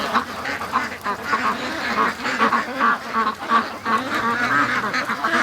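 Free-range ducks on a lake quack in a busy, overlapping chorus, close and continuous with uneven bursts of calls throughout.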